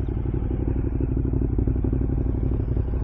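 A Ducati Monster motorcycle is ridden on a group brunch ride, its engine droning steadily and loudly with a low, even rumble throughout, with faint clatter and no speech.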